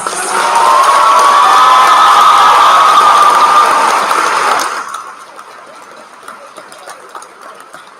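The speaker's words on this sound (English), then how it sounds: "I invite you to please honor them with a big round of applause." A large graduation audience at a Class of 2022 commencement bursts into loud cheering and applause for about five seconds, then cuts off abruptly to faint, scattered room noise.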